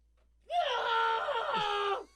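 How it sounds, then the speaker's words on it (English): A single drawn-out scream crackles through a comlink, rising abruptly, holding a strained, tonal wail for about a second and a half, then cutting off, thin and filtered like a radio transmission. "That's probably a victory scream"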